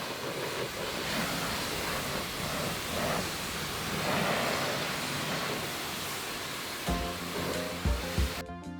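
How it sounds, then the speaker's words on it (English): A Karcher Expert 7125 pressure washer sprays a steady, loud hiss of water while rinsing shampoo off a mouldy Volvo, continuous and close, with a few knocks and clatters near the end. "the machine I'm using right here is the Karcher Expert"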